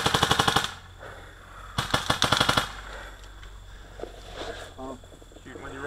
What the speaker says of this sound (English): Shooting with your wrong hand.